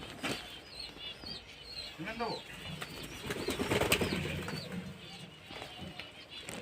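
Pigeon chicks and adult pigeons at a home loft make soft coos and chirps alongside brief wing flaps, with someone talking quietly over them.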